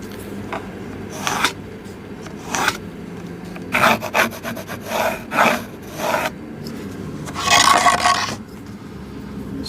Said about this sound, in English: we need to saw it